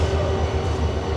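A train leaving Kamalapur railway station for Panchagarh gives a steady, loud low rumble and rolling drone, with no pauses and no talk.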